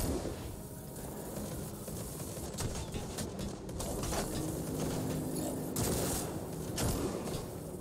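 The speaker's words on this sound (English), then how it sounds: "they are really shooting at me" Enemies open fire in Necromunda: Hired Gun, a dense, distant-sounding stream of rapid gunshots and mechanical clatter, fairly quiet and continuous, with scattered sharper cracks throughout.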